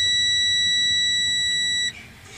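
Wabco warning buzzer inside the cab of a 2014 Freightliner Cascadia truck as the key turns on: a loud, steady high-pitched electronic tone held for almost two seconds, then cutting off abruptly, leaving low cab hum.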